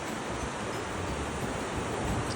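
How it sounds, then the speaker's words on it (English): Ocean waves wash onto a beach at sunrise, making a steady, even rush of broadband surf noise with no distinct breaks and no voices. "listening to the waves, just feeling the water brush up against my toes."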